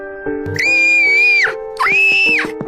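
A horror-story scream of pain: two shrill, drawn-out cries, the second slightly shorter, ringing loud and close over a steady low droning tone.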